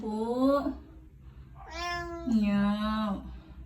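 A Siamese cat named Sky meows twice at a closed door, a short cry followed by a longer, drawn-out wail, close and clear against a low background hum.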